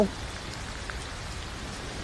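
Rain falls steadily as a soft, even hiss of drops on surfaces, constant and moderately quiet throughout.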